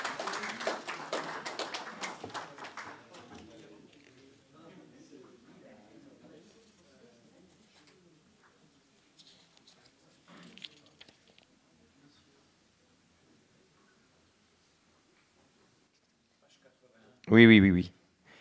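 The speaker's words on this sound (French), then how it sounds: "on applaudit l'éditeur" An audience applauds the editor at a French event, a dense patter of clapping in the opening seconds that quickly thins and fades into quiet talk, with a short loud burst of sound near the end.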